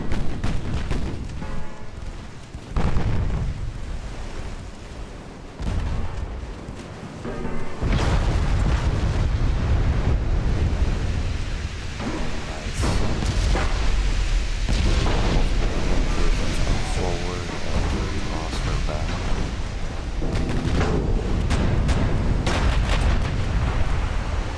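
Naval artillery fire in the warship game Ultimate Admiral: Dreadnoughts, with loud deep booms and rumbling explosions one after another over continuous battle noise.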